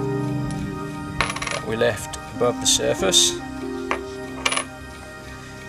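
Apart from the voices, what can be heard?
coins being handled and dropped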